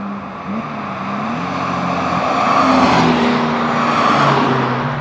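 Porsche Boxster 3.2S engine note as the car drives and is thrown into corners, a steady loud drone with shifting pitch that rises and falls under continuous road and wind noise, close to the microphone.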